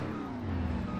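Mack truck engine in a farming video game over-revving while backing up, a steady droning whine held loud and even from start to finish.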